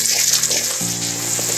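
Crushed garlic and ground five-spice frying in mustard oil for an amla pickle, giving a steady, close sizzling hiss throughout, with a low hum running beneath it and no voices.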